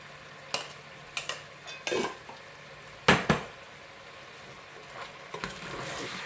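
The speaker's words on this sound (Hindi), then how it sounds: "चिकन थोड़ा सा फ्राई हो गया और इसने अपना कलर भी चेंज कर लिया" Chicken pieces frying in a pan for a curry, with a soft steady sizzle broken by a few sharp clinks and scrapes of a spoon stirring against the pan.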